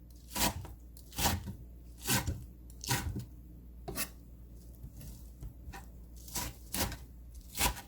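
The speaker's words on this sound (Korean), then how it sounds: "삶은 미나리를 먹기 좋은 크기로 잘라주세요." A knife slices through boiled water dropwort (minari) on a cutting board, giving about ten soft, evenly spaced chopping thuds, close and fairly quiet with no talking.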